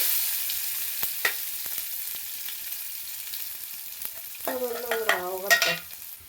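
Onion and chilli hit hot coconut oil with popped mustard seeds, giving a faint hiss and a few scattered clinks before a louder burst of crackling sizzle and stirring near the end.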